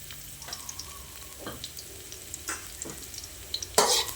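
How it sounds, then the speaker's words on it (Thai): Garlic stir-fries in hot oil in a wok, giving a steady sizzle broken by scraping stirs. A louder hiss flares near the end. "เกี่ยวกระเทียมให้เหลืองนะคะ ให้หอมเลย"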